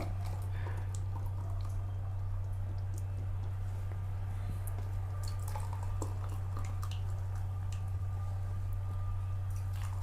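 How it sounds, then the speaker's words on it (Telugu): Thums Up cola is poured out in a village setting, a faint bubbly trickle and fizzy drips over a steady low electrical hum, with no talking. "ఇప్పుడు మనమైతే ఓ థమ్స్అప్ అయితే పోసుకుందాం"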